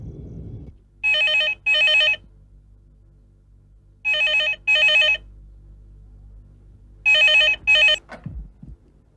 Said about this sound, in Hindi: अचानक फोन की घंटी बजती है